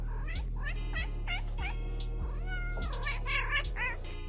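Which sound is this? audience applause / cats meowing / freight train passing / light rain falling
cats meowing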